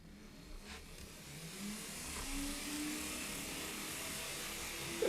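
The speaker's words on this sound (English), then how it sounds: "Up next we got the CSX GP30 with some of my freight cars, which is 2 hoppers, a tanker, and a very large uranium boxcar." A CSX GP30 model train locomotive running on track while pulling two hoppers, a tanker and a large boxcar, producing a faint, steady electric motor whine that slowly rises in pitch over soft wheel rumble.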